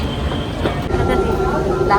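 A metro train arriving at a station, a steady rumble with faint squealing tones and a rising whine, with people talking over it.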